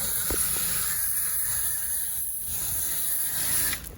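A steady, loud hiss of high-pressure water spraying continuously, with a broad rushing noise and no voices.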